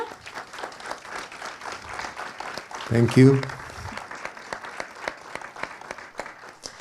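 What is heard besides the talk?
audience applause for the film director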